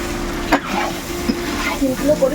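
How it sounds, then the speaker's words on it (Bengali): Three kilograms of chicken sizzle and fry in a pan while being stirred, with scraping clatter from the spoon over a steady frying hiss. "সকালে যখন লাগে আবার তখন তিন কেজি চিকেন রান্না হচ্ছে"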